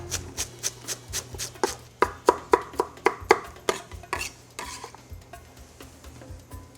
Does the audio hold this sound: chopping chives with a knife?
yes